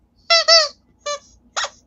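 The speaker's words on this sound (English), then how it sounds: "Okay, they both squeak. You can hear that." Vintage cat and puppy squeak toys squeak four times in quick succession, first a close double squeeze and then two shorter separate squeaks, bright and loud against near silence.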